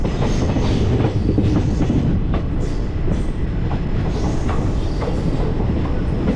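Heard from inside a general-class coach, the Chennai Egmore–Mangaluru Express runs along the tracks near Shoranur with a loud, steady rumble and rhythmic wheel clatter throughout.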